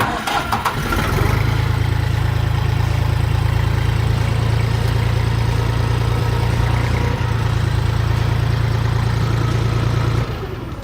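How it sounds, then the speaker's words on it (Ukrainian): A three-cylinder Jinma 24 mini tractor with a KM385 diesel engine idles steadily and loudly close by, a low even chugging that holds for about nine seconds before cutting off, with no talking. "Далі пробуємо трьохциліндрову джинму 24 з мотором КМ 385"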